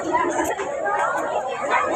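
Crowd chatter at an election rally for a municipal ward candidate in Bhiwandi, a steady dense murmur of many voices close around, with no single speaker standing out.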